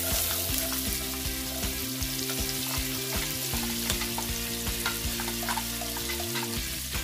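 Diced onion frying in butter in a pan, a steady close sizzle with soft crackles and occasional stirring scrapes running throughout, no talking.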